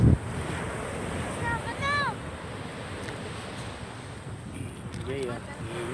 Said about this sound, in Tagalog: Sarap ng simoy ng hangin mga guys.